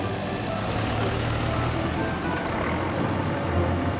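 Loud continuous rumble of a cartoon dump truck engine with faint reversing beeps, steady and close throughout with no pauses.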